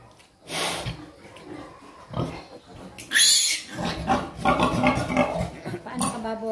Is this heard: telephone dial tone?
no